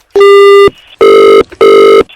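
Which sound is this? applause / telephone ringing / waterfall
telephone ringing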